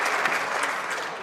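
Applause fills the House of Commons during Question Period, a dense, loud burst of clapping from many members, heard briefly and on its own.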